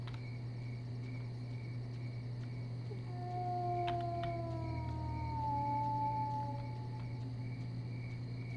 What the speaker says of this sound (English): I really have no idea if that howl is ambiance or actually generated by dogs